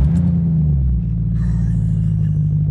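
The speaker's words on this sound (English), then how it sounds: "It sounds like a straight pipe Mustang with that, you know, that noise that's like wob, wob, wob, wob, wob." A Jaguar XJ8 engine with a straight-piped exhaust idles loud and close, a deep rumbling burble with a pulsing wobble that holds steady for a few seconds.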